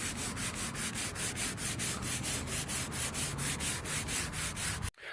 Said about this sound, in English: So we're just going to keep giving it a nice little sanding.